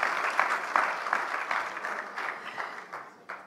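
An audience at a film club screening claps steadily for a few seconds, a dense patter of many hands that gradually thins and softens.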